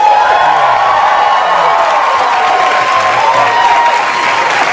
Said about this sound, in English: let's not applaud yet